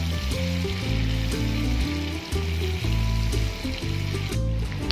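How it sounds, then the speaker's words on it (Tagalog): Onion, garlic and chili sautéing in butter in a pan, a steady close sizzle with the soft scrape and clatter of stirring throughout. "ginagisa na natin ang sibuyas,"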